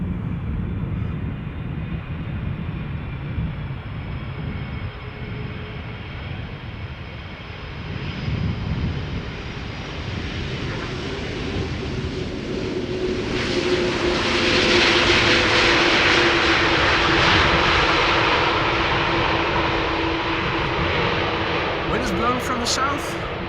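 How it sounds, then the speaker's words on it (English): A large Airbus A330-200 airliner roars closer on arrival at Schiphol Airport, its engine noise swelling steadily and peaking loud before easing slightly, with a voice talking over it. "KLM Flight 787 up next, arriving from Port of Spain. A330-200"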